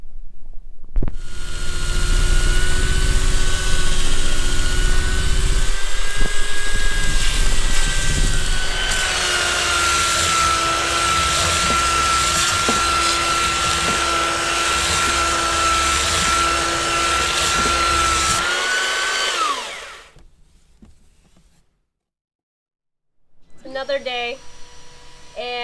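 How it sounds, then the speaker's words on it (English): A loud belt sander drones steadily while shaping wood pieces aboard a sailboat under refit, its motor whine holding for about twenty seconds before cutting off, followed by a short burst of further noise. "so what I'll do is shape these in now with a belt sander"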